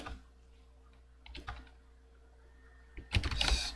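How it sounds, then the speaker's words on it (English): Clicks of a computer keyboard being typed on while coding, two short bursts of keystrokes: a brief flurry near the start and a denser, louder run at the end, close and quiet with no talking. "I'm going to type the same thing"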